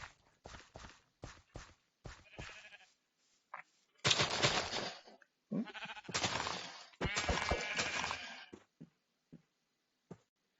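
Sheep bleat several times in the blocky survival game Hungry World, loud nearby calls broken up by short gaps and scattered game clicks and thumps.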